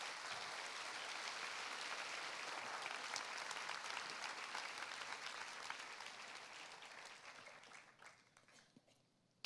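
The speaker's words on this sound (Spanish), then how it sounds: "denle un aplauso fuerte al Señor." Strong church congregation applause for the Lord at a Casa Roca Medellín service, a dense sustained roar of many hands that holds steady for most of its length before thinning and fading near the end.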